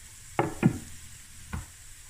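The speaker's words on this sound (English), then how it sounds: "Give it a stir." Tuna spaghetti sauce being stirred in a pan, with three short scraping strokes against the pan over a faint sizzle, close and otherwise quiet.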